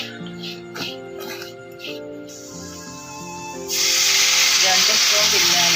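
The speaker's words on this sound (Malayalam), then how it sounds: "ഇനി നമുക്ക് ഇതിനകത്തോട്ട് വിനാഗിരി ഒഴിച്ചു കൊടുക്കാം" Vinegar poured into beetroot cooking in hot oil for a beetroot pickle sets off a sudden loud, steady sizzling hiss about halfway through, after a quieter stretch with soft background tones.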